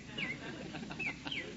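An old-time radio bird sound effect chirps in a few short, thin tweets over a dull muffled background.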